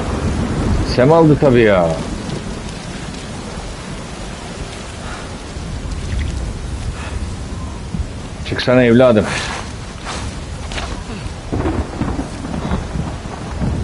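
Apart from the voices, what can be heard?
rain and thunder in video game Uncharted 4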